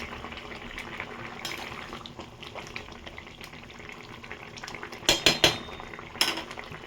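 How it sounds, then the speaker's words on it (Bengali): Metal lid set down onto a pan of vetki fish curry with potatoes, giving a few sharp clinks and clatters near the end over a steady low kitchen hiss. "ঢাকা দিচ্ছি, পরে ফিরছি।"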